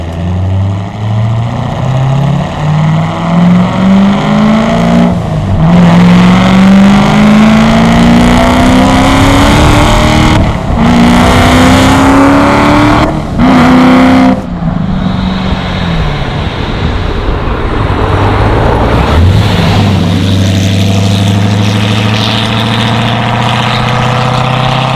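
A Hennessey HPE1000 supercharged Z06 Corvette accelerating hard on a test drive. Its loud, close engine climbs through several rising gear pulls with sharp shift breaks, then settles into a deep, lumpy cruise.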